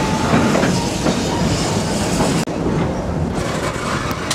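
The Serengeti Express train at Busch Gardens, Tampa Bay, Florida rumbles steadily along the rails, loud and close, with a continuous roar and faint rhythmic clatter.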